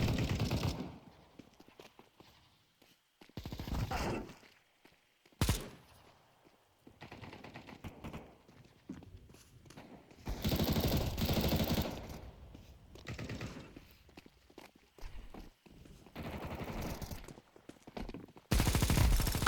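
A heavy machine gun fires in a video game in repeated long, loud rattling bursts separated by short gaps, with no talk over the shooting.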